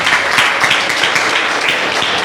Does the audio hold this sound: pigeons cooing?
no